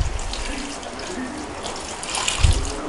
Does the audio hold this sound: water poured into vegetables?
yes